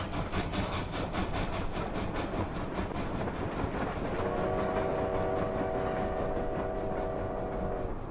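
Train running in the video game Sly Cooper: Thieves in Time, a loud continuous rhythmic clatter of wheels on rails with a sustained tonal whistle-like sound joining midway.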